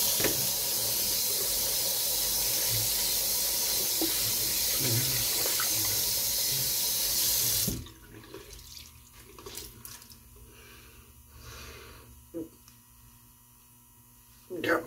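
Water runs steadily from a tap while a razor is rinsed, a continuous close hiss and splash that cuts off about halfway, leaving quieter room sounds.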